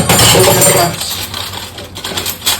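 Metal spoons clink and jangle close by, bright and loud at first and then a few lighter clinks, with people talking over them.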